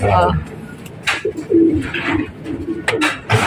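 Pigeons coo softly inside a loft, several short cooing calls mixed with brief chirps and rustling, close by, while people talk nearby.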